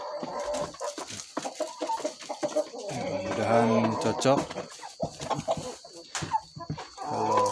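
Backyard chickens cluck and chatter continuously at close range, busy overlapping calls rising in a louder flurry midway, while someone speaks briefly over them.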